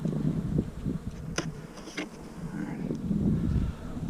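Honey bees buzz steadily around an opened hive during a post-winter inspection, a continuous close drone with occasional louder passes near the mic and some faint handling noise underneath.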